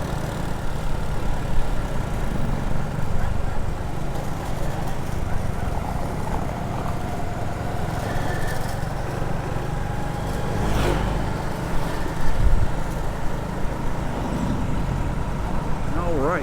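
A car with a rebuilt engine, gears and clutch drives through traffic between Jomtien Beach and Soi Buakhao in Pattaya, a steady engine and road rumble with passing vehicles around it.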